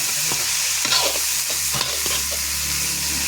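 Food frying in a pan and being stirred, with steady broadband sizzle and a few scraping strokes of the spoon; no voices.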